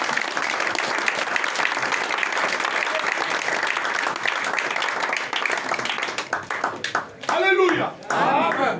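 A church congregation applauds the Lord in sustained, dense clapping that fills the room, then fades as a voice rises over scattered claps near the end.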